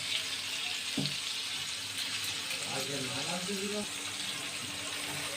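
Warm water is poured into a hot pan of spices, giving a brief hiss and a burst of bubbling that settles into a steady, moderate seething simmer, no voices.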